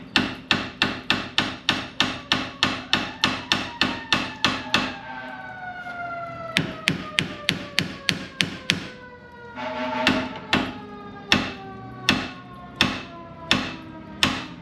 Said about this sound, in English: Tap it to loosen it.